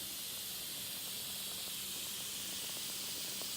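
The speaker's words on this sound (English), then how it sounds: "So we're just gonna let all that steam come out." Steady, continuous hiss of steam venting from a pressure cooker of chicken parmesan pasta, bright and unbroken throughout at a modest level with no talk.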